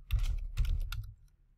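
Two short runs of crisp keyboard typing, close by, as a filter name is entered in Revit drafting software, then quiet.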